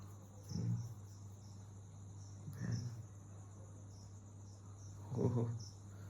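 Insects chirp at night around a mosquito net, a steady high shrill chorus under a low constant hum, with a few soft rustling bursts.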